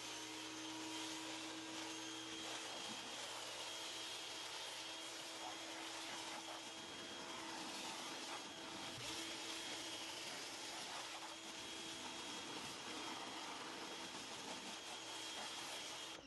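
An SGS28 swivel spray gun rinses a car with a loud, steady hiss of pressurized water spray, continuous and close for the whole stretch, with a low machine hum beneath.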